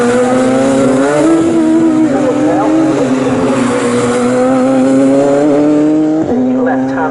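Race cars pass at Snetterton circuit in a loud, sustained engine drone that rises and falls in pitch, with a brief tire squeal as they go by. A commentator talks over the noise.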